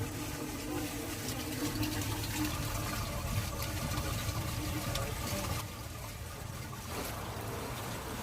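Water rushing steadily down a freshly unclogged kitchen sink drain toward the sewer line, a continuous dense gurgling flow close by that drops slightly in level partway through.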